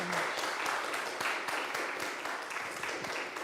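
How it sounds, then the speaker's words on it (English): An audience gives a round of applause for a speaker at a speaker series event, a dense patter of many hands clapping at a fairly faint, distant level throughout. "if we could just give Iris a round of applause"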